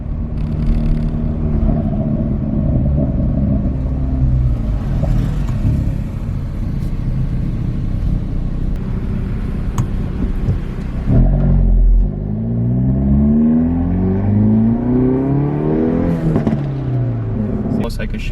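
Hyundai Veloster N with a louder exhaust, rumbling and revving while driving, with small exhaust pops and crackles on throttle lift amid a steady engine drone; people talk throughout.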